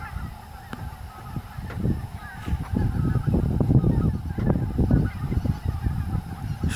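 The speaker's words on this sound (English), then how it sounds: "Snow geese, that is." A huge flock of snow geese honks continuously from a distance, building into a dense, overlapping chorus of calls at a job site.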